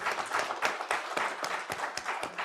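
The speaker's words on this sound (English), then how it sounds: "Please, a round of applause for them." Audience applause for three guests on a panel about writing and publishing in Quebec, a steady dense patter of many hands clapping at moderate volume with no talk over it.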